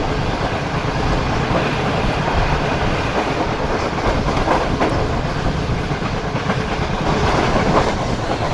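Karakoram Express passenger train running at good speed on rails, with steady dense rumble and rhythmic clickety-clack of wheels throughout, loud and continuous from onboard.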